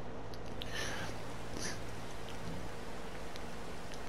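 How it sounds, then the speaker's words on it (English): Rain falling in the Farming Simulator 22 video game, a faint steady patter and hiss on a farm during corn harvest, low in level with occasional soft drip accents. "Oh no, it's raining."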